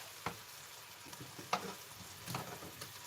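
Fresh strawberries hit a hot frying pan and sizzle quietly, with a few soft thuds and scrapes as they land and are moved about.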